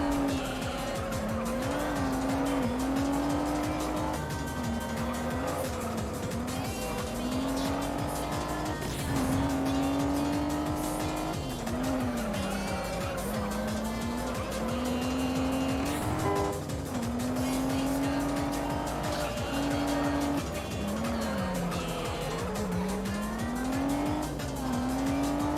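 Nissan 300ZX engine screaming through a racing lap in the Juiced video game, a loud continuous wail rising and falling with gear changes and repeated tire squeal through corners, steady throughout with no talk.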